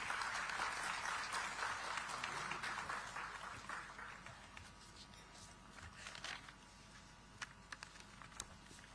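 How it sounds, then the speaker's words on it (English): Applause from a crowd at a digital technology summit in Visakhapatnam, strongest at first and then thinning out into scattered claps that fade away. "Let's welcome him with a warm round of applause"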